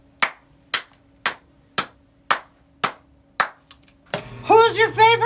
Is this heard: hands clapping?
yes